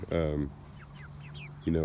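Fall meat chickens raised in a tractor, giving short, harsh squawking clucks at the start and end with softer chirps and peeps between, close by.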